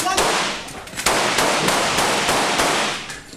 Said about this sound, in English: As gunfire erupts